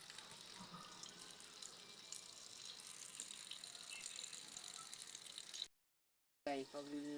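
A weak trickle of water runs steadily from a kitchen tap during rice washing, a faint continuous hiss that stops abruptly near the end, followed by brief clinking.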